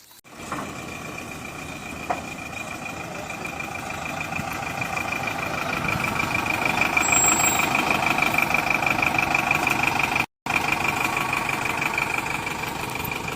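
A goods truck loaded with seven bullocks idles close by. The engine drone is steady, swells slightly partway through and cuts out for a moment.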